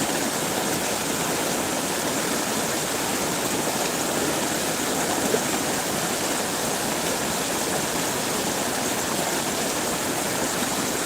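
Steady rushing water from a shallow, algae-filled river, a constant broad wash of flowing stream noise with no pauses, fairly loud and uninterrupted throughout.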